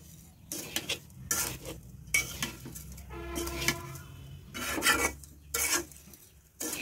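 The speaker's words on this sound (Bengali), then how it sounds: "একদম লো হিটে এটা ভেজে নিতে হবে, নাহলে নিচে পুরো ধরে যাবে" Sugar frying in a pan over low heat, stirred until it melts, with repeated scraping and rasping strokes of a utensil against the pan, loud and close, broken by short pauses and a faint sizzle beneath.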